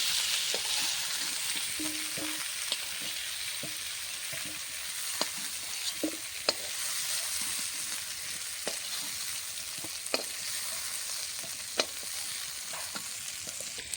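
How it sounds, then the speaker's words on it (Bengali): Cauliflower florets frying in oil in a pan until reddish-brown, giving a steady, quiet sizzle with occasional sharp pops and spatula taps, no voices. "কপিটা লাল লাল করে ভেজে নিয়েছি।"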